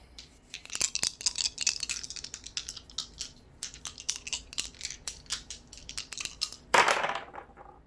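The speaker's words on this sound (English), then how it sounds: "let's pull some dice" Dice rattle and clatter in a series of sharp, irregular clicks for a tarot-style reading, close and fairly quiet, ending in one louder burst as they tumble out.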